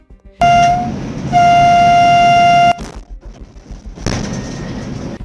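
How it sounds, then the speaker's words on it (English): A train horn blares loudly in two long sustained blasts near a railway crossing, followed by the roaring rush of the train speeding past close by. "the train's horn blares"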